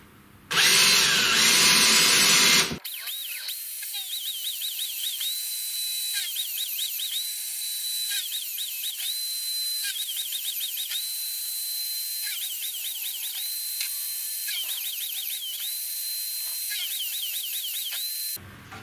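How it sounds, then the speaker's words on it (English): A power drill bores holes during a CNC router build in a wood shop, opening with a loud burst and then cycling through a long run of repeated high whining spin-ups and stops at an even pace. "drill slightly oversized"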